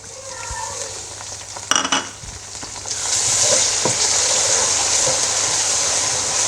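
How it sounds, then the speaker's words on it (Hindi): Ginger garlic paste hits a pan of frying onions for a kidney bean curry, bringing a brief clatter followed by a steady, loud sizzle that fills the rest of the moment. "अब इसमें अदरक लहसुन का पेस्ट डालते हैं।"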